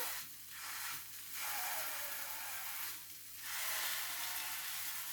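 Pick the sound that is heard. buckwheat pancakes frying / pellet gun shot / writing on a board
buckwheat pancakes frying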